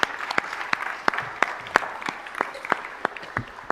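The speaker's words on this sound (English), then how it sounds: "can we everyone join me in giving another round of applause to the Los Angeles Fire and Police Association" Audience at a city council meeting applauding, with scattered individual claps standing out over a steady wash of clapping, moderately loud and continuous.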